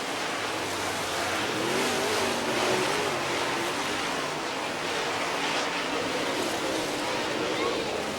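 Super late model race cars at Hesston Speedway roar past as a dense, continuous wash of engine noise from the grandstand, with an announcer's voice commentating over it.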